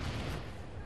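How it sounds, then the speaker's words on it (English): Enemy gunfire in The Division, a dense burst of shots packed into under a second, loud and steady with no pauses and no voices over it. "he's trying to shoot at me"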